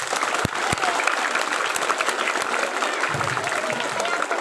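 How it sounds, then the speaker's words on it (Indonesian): Children clap together at a storytelling session about a cow and a monkey, a dense, sustained burst of applause with a few sharper individual claps and some voices mixed in. "Tepuk tangan."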